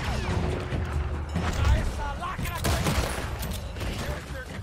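Gunfire in Red Dead Redemption 2 erupts as a sustained barrage of overlapping shots and mechanical clatter, loud and continuous, with someone talking over it.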